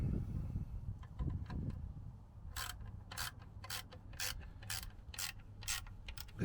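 A ratchet snugs up the transmission pan bolts on a Jaguar XJ40 with a ZF 4HP24 gearbox, giving quick, close clicking bursts after some low handling noise, in a quiet workshop with no voices.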